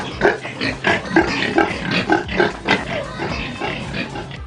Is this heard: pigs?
yes